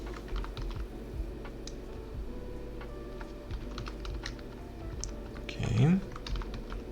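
A master password goes in on a computer keyboard with rapid, close key taps in uneven bursts, followed by a brief louder knock near the end.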